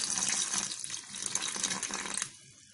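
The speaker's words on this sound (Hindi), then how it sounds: "अब हम 1 कप पानी डालेंगे" Water pours steadily from a cup into a besan (gram flour) batter for Hyderabadi dahi vada, a continuous close splashing stream that stops abruptly near the end.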